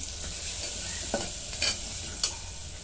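Potato and green pea curry with masala sautéing in a pan, a loud continuous sizzle with a few soft stirring scrapes, no voices.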